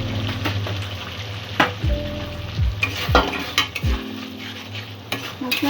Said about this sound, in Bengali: মশলাটা আরো একটু ভালো করে নাড়াচাড়া করে নেব।